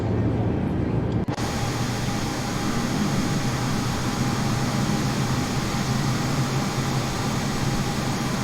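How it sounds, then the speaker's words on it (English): Airbus A320neo engine spooling up in Microsoft Flight Simulator 2020, a steady loud broadband roar and whine that surges in abruptly after a short quiet start and holds constant for the rest of the stretch. "Hear the engine start."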